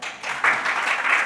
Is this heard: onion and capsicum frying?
no